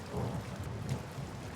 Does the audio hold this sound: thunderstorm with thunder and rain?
yes